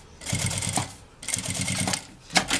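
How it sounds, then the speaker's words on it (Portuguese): A sewing machine stitches bias binding on a small oral hygiene pouch, working slowly around a curve in three close, loud bursts of rapid rhythmic stitching separated by short pauses. "Na curvinha é devagar, tá? Eu sempre costuro devagarzinho na curva"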